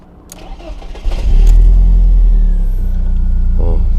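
A 1996 BMW E36 coupe, fitted with new spark plugs and ignition coils, cranks briefly and starts, then settles into a loud, steady idle close by.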